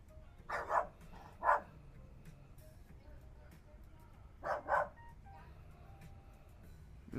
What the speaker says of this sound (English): Damn dog's tripping on something.